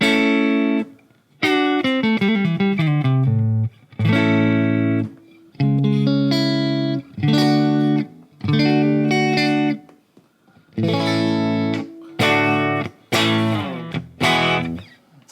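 A dry, clean electric guitar plays a series of chords and single-note runs, with even, compressed dynamics and short pauses between phrases.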